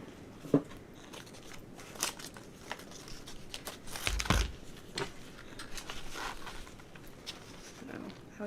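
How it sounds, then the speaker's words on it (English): Good scissors cutting wired ribbon in a few sharp snips with crinkly rustling between them, close and fairly quiet, with no talking. "I want to cut wired ribbons with good scissors."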